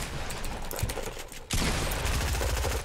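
Gunfire in the video game Fortnite on PS4: dense, continuous rapid shots with crackling impacts, growing louder and heavier halfway through and staying sustained to the end.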